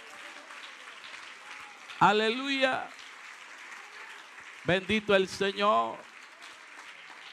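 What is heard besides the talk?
applause for the Lord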